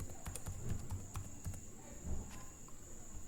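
Light tapping on a computer keyboard comes in short, uneven bursts of clicks, close but faint against a quiet room hum.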